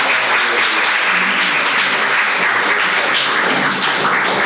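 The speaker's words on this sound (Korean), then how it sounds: "박수 부탁합니다" An audience at a Korean suicide-prevention awareness day award ceremony applauds a district office receiving a life-respect prize, with loud, dense, continuous clapping that fills the whole stretch.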